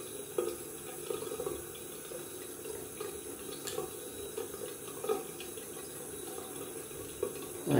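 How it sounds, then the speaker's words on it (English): Tap water runs steadily into a sink while a shaving bowl is rinsed, with soft splashes and clinks over a continuous, fairly quiet flow and no talking. "gonna rinse out my bowl while the alum works a little bit with my skin"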